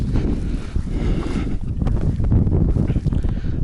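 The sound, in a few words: wind blowing outdoors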